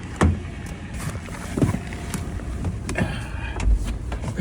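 A car drives along near a seaplane base in Anchorage, Alaska, a quiet interior hum with soft road rumble and a few light knocks and thumps, no talking.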